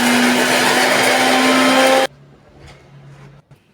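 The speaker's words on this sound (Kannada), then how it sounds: "ಈಗ ಇದನ್ನು ನುಣ್ಣಗೆ ರುಬ್ಕೊಳ್ಳೋಣ್ರಿ" A kitchen mixer grinder finely grinding mint and other ingredients whirs loudly and steadily, then cuts off abruptly, leaving a faint winding-down hum and a few small clicks.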